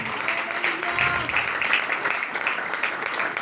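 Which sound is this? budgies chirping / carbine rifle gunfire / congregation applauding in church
congregation applauding in church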